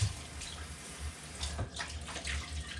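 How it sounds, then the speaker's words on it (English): Tap water runs over cauliflower being rinsed in a kitchen sink, a soft, steady splashing and trickling with small shifts as the florets are moved, fairly quiet and close. "you got to make sure you wash the cauliflower"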